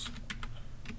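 Quick keystrokes on a computer keyboard, a handful of close, light clicks in a brief burst while entering an Excel formula, with no voice over them.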